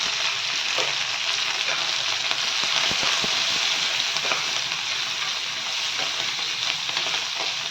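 Chopped onion sautés in a pan for a tawa cabbage dish, a steady, dense sizzle that carries on throughout, close and loud, with occasional soft scrapes of stirring.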